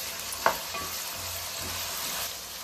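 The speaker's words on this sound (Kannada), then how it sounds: "ಫ್ರೈ ಆಗ್ತಾಯಿದೆ" Green chillies sizzling in a pan on a steady hiss, with one sharp clatter of a spoon stirring early on and softer scrapes after, no voices.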